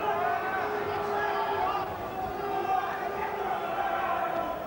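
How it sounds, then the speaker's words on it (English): Arena crowd at the Ross Hale vs Hugh Forde boxing bout, a steady roar of murmuring and shouting with boos and catcalls mixed into the babble, loud and unbroken. "There's a few boos and catcalls around the place."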